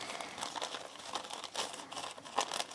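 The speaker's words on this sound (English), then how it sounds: "Some people wet their napkin, but I never really find that I have to do that because I can rip it pretty well just like this" A paper napkin being torn by hand, quiet crinkling and ripping in a series of short irregular bursts, close and alone.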